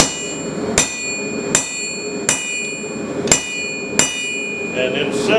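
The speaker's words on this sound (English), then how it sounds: "I'm taking a round punch." A hammer strikes a round punch set against hand-forged steel, five sharp ringing metallic blows spaced about a second apart, close and loud, each followed by a bright lingering ring.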